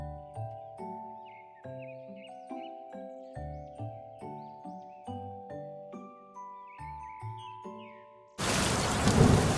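Melodic music plays for several seconds, then abruptly gives way to a loud, dense roar of heavy monsoon-style rain with rumbling thunder.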